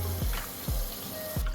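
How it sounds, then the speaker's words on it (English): Collard greens sloshed and rinsed by hand in a sink of cold salted water, with three soft splashing swishes spaced about half a second apart over a steady running-water hiss, close and fairly loud. "then we'll get our greens in this water"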